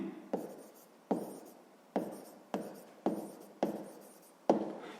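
A pen scratches across paper in seven short, evenly spaced strokes, each starting sharply and trailing off, close and alone in a quiet room.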